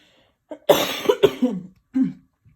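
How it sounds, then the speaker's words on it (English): A person coughs several times in quick succession, harsh and close, followed by a short throat-clearing cough after a brief pause. "Why do I always cough when I start filming?"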